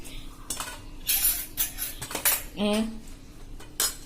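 Taro-leaf bhajiya batter is mixed in a bowl with a spoon, making irregular close metallic clinks and scrapes, with a brief ringing tap partway through.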